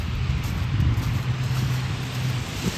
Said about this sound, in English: mostly just traffic